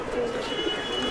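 Madrasi pigeons give a brief, soft, low coo close by against a steady background hum.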